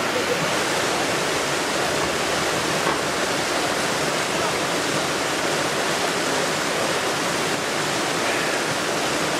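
A waterfall in red clay country near Marrakech pours and trickles over stones, a dense, steady roar of rushing water that stays loud and unbroken throughout.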